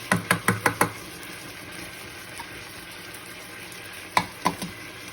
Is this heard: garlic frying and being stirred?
yes